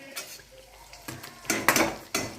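Edible gum being fried in a kadhai, with a soft background sizzle punctuated by a few clinks and scrapes of a utensil against the metal pan, louder toward the end, with no voice heard.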